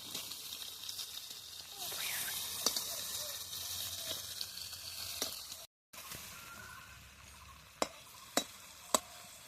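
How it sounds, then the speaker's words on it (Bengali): Prawns held on sticks fry lightly in hot oil in a pan with a steady, soft sizzle, broken by a few sharp utensil clicks and one brief dropout. "মাছগুলো বেশি ভাজবো না, হালকা করে ভেজে নেব।"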